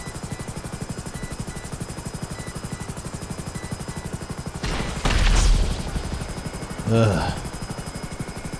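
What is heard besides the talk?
helicopter flying in the video game GTA Online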